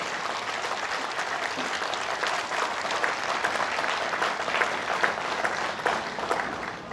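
Dense crowd applause rises from a rally audience of veterans in Meerut, a steady broadband clatter of many hands clapping throughout, fairly distant and sustained, with no voices standing out.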